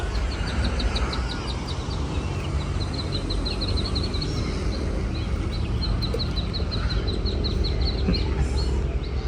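Bird calls outdoors in Cape Town, a repeated series of short high chirps in quick runs, set against a steady loud wash of wind or background noise.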